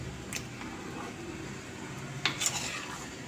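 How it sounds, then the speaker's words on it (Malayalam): A pot of jackfruit seed and drumstick curry with ground coconut is stirred, giving a soft steady simmer and a couple of brief spoon-on-pot clinks. "ഇനി ഒന്ന് ഇളക്കി കൊടുക്കാം."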